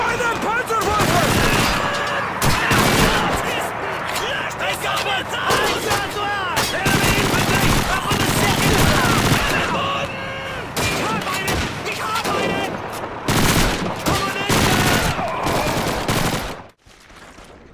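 MG42 machine gun fire in the World War II shooter Call of Duty 2, with loud, dense rattling bursts and heavy battle noise under shouting voices, ending in a sudden drop to quiet.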